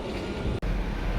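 A train passes nearby in Jerusalem with a loud, dense rumble and rattle, broken for an instant by a short dip before the roar carries on.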